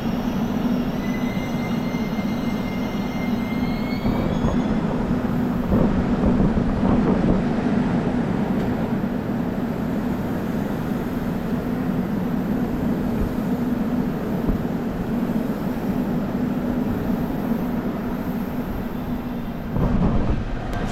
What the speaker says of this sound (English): And there it is, guys, the local train here in Seoul.